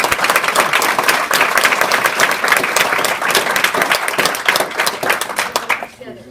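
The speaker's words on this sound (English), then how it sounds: "Let's give them a round of applause." A crowd at a school board business meeting bursts into applause. Brisk, dense clapping rings out loud and close for several seconds, then stops abruptly near the end.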